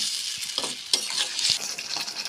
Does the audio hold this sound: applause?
no